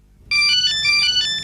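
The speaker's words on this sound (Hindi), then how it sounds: "अरे बॉस का फोन।" A phone ringtone plays a bright electronic melody of short repeating tones, loud and close, lasting about a second before cutting off, with no talking.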